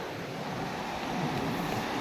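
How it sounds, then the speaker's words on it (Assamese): Heavy ocean waves break on ECR Beach near Chennai in a dense, continuous wash of surf, with wind buffeting the microphone. "এইবিলাক পূৰা হেভি ঢৌ উঠিছে আজি"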